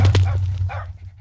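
Puppies bark from a puppy TNT explosion in the Minecraft video game: a few quick, high yips close up that trail off into a softer whimper, with no talking.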